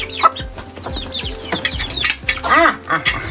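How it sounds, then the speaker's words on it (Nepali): A flock of farm chickens clucks nearby in Nepal, a steady run of short overlapping calls from several hens, with one louder drawn-out squawk near the end. "हाम्रो ठुलोले कति धेर कुखुरा पालेछन् त यार"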